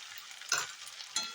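Potatoes and spices fry in a pan for a fish-roe fritter curry, a soft steady sizzle broken by two brief scraping stirs.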